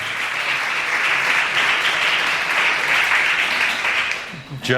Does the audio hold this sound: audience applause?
yes